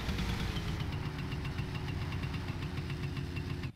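A motorcycle engine in the driving game My Summer Car idles with a steady, throbbing rumble that runs unbroken and then cuts off abruptly at the end.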